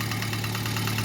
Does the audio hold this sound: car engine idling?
yes